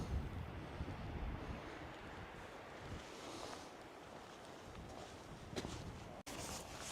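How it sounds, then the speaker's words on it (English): Wind gusting across an open fell at Bowscale above the Eden Valley, a steady buffeting rush against the microphone with no talking. "It's a bit windy still doing here"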